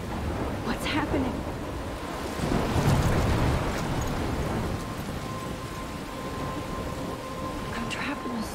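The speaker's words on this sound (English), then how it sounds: "I'm trapped in a storm?" Thunderstorm ambience from the video game Life is Strange: steady heavy rain with a deep rolling thunder swell midway, continuous and close.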